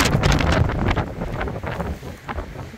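Strong outdoor wind buffets the microphone in rough, gusty roaring bursts, loud and continuous with slight easing toward the end.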